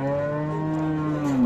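A calf at a rural cattle market lets out one long, close, sustained moo that bends downward in pitch at the end, with no talk over it.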